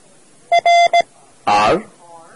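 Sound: Morse code letter R

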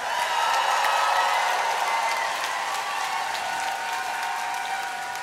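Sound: concert audience applause

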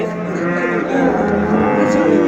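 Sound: dairy cow mooing at livestock market

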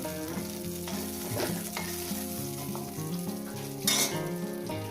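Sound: eggplant frying in oil

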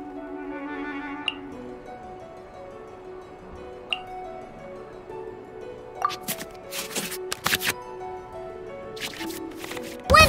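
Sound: cards shuffled back into draw pile in Genshin Impact card game

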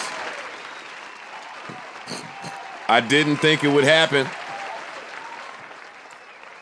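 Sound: round of applause

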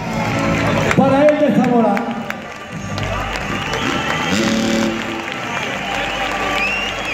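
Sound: audience applause at freestyle championship

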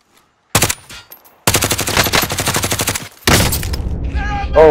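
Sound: gunfire in Call of Duty Warzone video game

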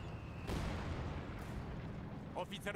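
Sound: mortar fire in Company of Heroes 2 (video game)

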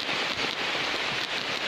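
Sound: rain

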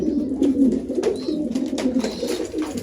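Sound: bird cooing

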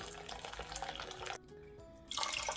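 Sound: pouring water over beans to soak

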